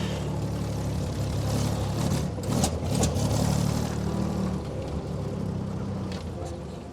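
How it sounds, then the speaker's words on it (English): A 1969 Jeep CJ5 engine runs roughly at close range, a loud, steady low rumble with uneven surges as the throttle rises and eases off, threatening to stall. "Every time I let up the throttle, it wants to die. This thing's not running very well."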